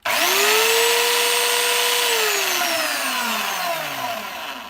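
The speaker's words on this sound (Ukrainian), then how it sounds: "Сверлю отвори для кріплення кришки майбутні." Electric drill boring holes to mount a lid, starting abruptly with a loud steady whine that holds, then slows and drops in pitch as the bit winds down.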